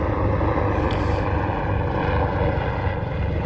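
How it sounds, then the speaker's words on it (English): A helicopter flying overhead outdoors, a loud steady rumbling engine and rotor drone that fills the whole stretch without fading. "Perfectly timed helicopter."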